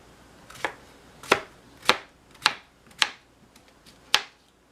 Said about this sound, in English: So next I'm just going to cut this into pieces, big pieces.